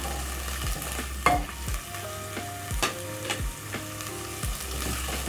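Onions and coriander for a green peas curry are stirred in a pan over medium flame. Soft sizzling runs underneath a series of distinct scraping strokes of the spoon against the pan, roughly one every second.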